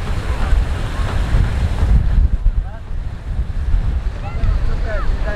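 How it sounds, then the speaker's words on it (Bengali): Rough sea surf at Saint Martin Island churns steadily with heavy low rumble and gusting wind buffeting the microphone throughout. "একটু যদি দেখায় যে সমুদ্রটা কি পরিমাণ উত্তাল।"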